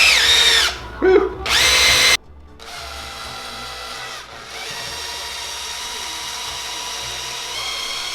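Power drill spinning a mixer to blend silicone in a bucket, loud whining bursts in the first two seconds, then a lower steady churning hum of the mix through the rest.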